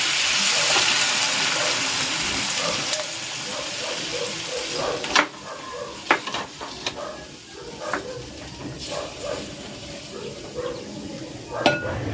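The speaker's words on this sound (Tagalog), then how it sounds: "maglalagay ako dito ng 8 ounce na Coke" Braised pork belly sits in a pan as Coke is poured in, a continuous fizzing, splashing rush that gives way to bubbling sizzle and scattered clinks and taps.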